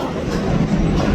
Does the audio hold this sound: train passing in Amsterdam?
yes